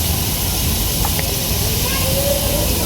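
Food sizzling in a pan over an outdoor cooking fire at night, a steady loud hiss and crackle that fills the whole stretch without letting up.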